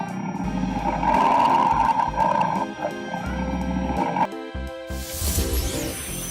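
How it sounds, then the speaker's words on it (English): A toy tiger gives a loud, growling roar over a steady musical backing, then breaks into a noisy, bright burst of sound near the end. "Tiger."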